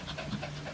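Dog panting close by, a steady run of quick, soft breathy pants with an even rhythm and no talk over it.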